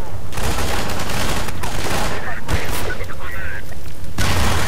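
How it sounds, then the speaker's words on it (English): Grenade blast and bursts of gunfire in the video game Half-Life 2: Episode, a loud, dense barrage of shots and booms running throughout with a voice speaking over part of it. "Yes, it is a grenade."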